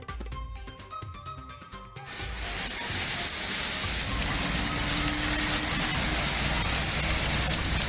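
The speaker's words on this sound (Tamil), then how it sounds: "நெல்லை உள்ளிட்ட இடங்களில் கனமழை" Heavy rain pours down in Tamil Nadu, a dense, steady hiss of drops on surfaces that swells in after a couple of seconds and stays loud and unbroken.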